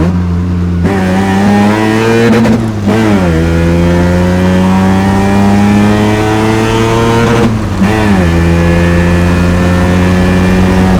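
First-generation Mazda RX-7 with a rotary engine held against its 7,000 rpm rev limiter, a loud buzzing drone with brief dips and stutters where the limiter cuts in, close and continuous for the whole stretch, no talking.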